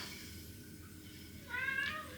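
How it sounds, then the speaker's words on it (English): A house cat meows once, a brief high call near the end, faint and somewhat distant against a quiet kitchen background. "she meowed then because she thought I was calling her"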